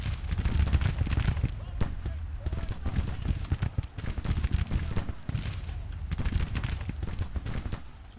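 Dense musket fire crackles without pause in a Civil War battle from the strategy game Grand Tactician: The Civil War, a steady rattle of many rifles over deep rumbling, continuous and loud.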